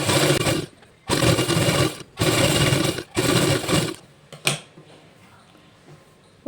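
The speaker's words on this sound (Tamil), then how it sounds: "இப்போ இங்கே ஒரு ஸ்டிச் பண்ணியாச்சு" Domestic sewing machine stitching elastic into a raglan sleeve: four loud, steady whirring runs of about a second each, separated by brief pauses, followed by a click and quiet handling.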